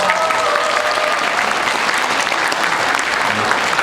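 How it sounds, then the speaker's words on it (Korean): A crowd claps loudly and continuously at a political history talk concert, a dense, even wash of applause with a few cheers blended in. "박수!"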